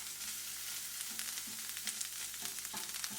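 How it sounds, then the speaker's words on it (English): Chorizo sausage fries in a pan, a steady crackling sizzle dotted with small pops, close and fairly quiet, no voices. "I'm just going to go ahead and get started on the chorizo. It's starting to pop a lot."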